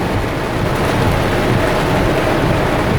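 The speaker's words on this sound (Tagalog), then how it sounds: "Grabe ka ulan." Heavy rain pours steadily during a thunderstorm with flooding in Davao City, a dense, continuous roar with no voices.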